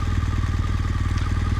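BMW R1200 GS TE motorcycle being ridden on a winter day, its boxer engine thrumming in a steady rapid pulse, close and loud throughout.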